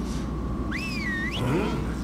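A person whistles a rising and bending tune over the steady background hum and din of Stubbs the Zombie gameplay, one short wavering whistle phrase with no talking.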